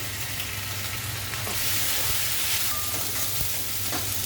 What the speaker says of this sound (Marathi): ते मी आलं लसूणचं वाटण आहे ते घालते हळद हिंग